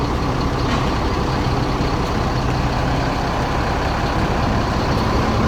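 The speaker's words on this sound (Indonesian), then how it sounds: "dari arah Kota Padang Pariaman masuk satu unit bus Yuanda Prima" A Yuanda Prima intercity bus with a Laksana Legacy SR1 body rolls into a bus terminal in Padang Panjang, its engine a loud, steady rumble filling the scene.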